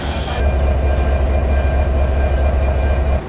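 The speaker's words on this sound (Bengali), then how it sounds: "বরেন্দ্র এক্সপ্রেসকে চালানো হচ্ছে নতুন আমেরিকান যে লোকোমোটিভগুলো আছে 6600 সিরিজের" The Borendro Express, hauled by an American 6600 series locomotive, rolls past in a loud, close, steady roar of heavy engine rumble and wheel noise, with a faint high squeal running underneath.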